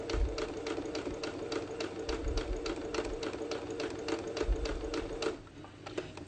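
A sewing machine back-stitches a cloth face mask, its needle clattering in a fast, even mechanical rhythm close up before the stitching halts near the end.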